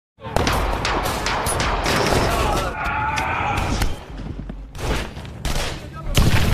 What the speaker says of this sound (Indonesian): sehingga terjadilah baku tembak.